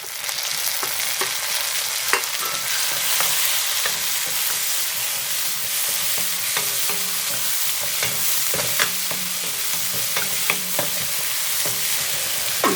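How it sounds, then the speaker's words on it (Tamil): Onion, garlic, split green chilies and a tomato sauté in hot oil for a sambar, giving a continuous bright sizzle with scattered scrapes and taps of the stirring spoon throughout. "இப்போது நம்ம இந்த வெங்காயம் தக்காளிலாம் நல்லா வதங்கி வந்துட்டுருக்கு"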